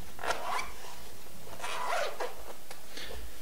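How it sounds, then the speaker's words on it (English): Zipper being drawn closed around an iBallz iPad case, heard as a few separate scratchy zipping pulls with short pauses between, close up and fairly loud, with no talking over it. "Take the lid, throw it over, and you zip it up. Sorry, this takes a second to zip."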